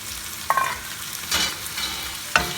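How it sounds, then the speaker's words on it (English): Mixed vegetables tipped into spices sauteing in a pan, with a steady sizzle and a few stirring scrapes, close and alone, without speech. "Let it saute a little bit more. To this, I'm going to add my vegetables."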